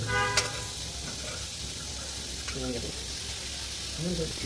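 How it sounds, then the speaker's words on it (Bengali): Momo dumplings sizzle as they are fried again in a pan, with a steady close hiss throughout and a voice speaking briefly over it. "এখন এগুলোকে আমরা আবার পুনরায় ভেজে নেব"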